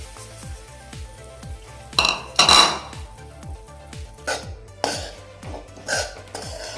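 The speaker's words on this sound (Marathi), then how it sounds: "ह्याच तुपामध्ये खारीक पावडर भाजून घेऊयात" Dry date powder roasting in ghee in a pan, a spatula scraping and knocking against the metal in a steady rhythm of strokes, about two per second, with a soft sizzle beneath.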